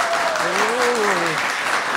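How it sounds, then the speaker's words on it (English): Audience clapping in a classroom-style gathering, a steady dense patter of many hands, with a voice briefly rising over it near the start. "Let's clap"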